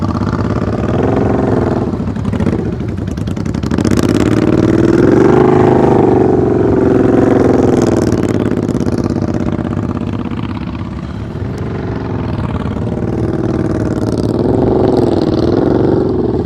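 A motorcycle engine rises and falls under repeated throttle blips during slow-speed riding practice, steady and fairly loud throughout, with no voices over it.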